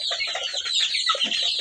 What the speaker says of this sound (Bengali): আপনি ব্রয়লার মুরগি পালা শুরু করছেন, আপনি দেখতেছি ঘরের মধ্যেই শুরু করছেন